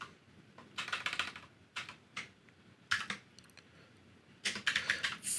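Keys clatter on a computer keyboard as a command is typed, in short quick clusters of taps separated by brief pauses, close and fairly quiet, with no speech.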